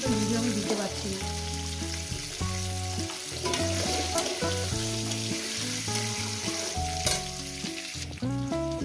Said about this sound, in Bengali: আমি প্রায় 5 মিনিট ধরে আলুগুলো ভেজে নেব।